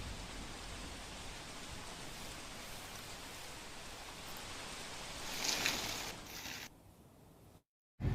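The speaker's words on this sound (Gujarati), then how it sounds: "સતત બીજા દિવસે કમોસમી વરસાદ વરસી રહ્યો છે।" Unseasonal rain falling in Porbandar, a steady soft wash of rainfall heard from a distance, swelling briefly near the end before dropping away into a short silence.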